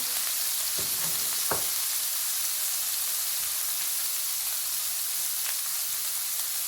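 Food frying and browning in a pan for an eggplant and potato masala: a dense, even sizzle like steady rain throughout, with a few brief knocks of stirring early on.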